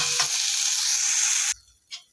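Onion and spinach fry in oil in a pan, a loud, steady hiss of sizzling up close that cuts off abruptly, followed by a brief stir or clatter in the quiet afterward.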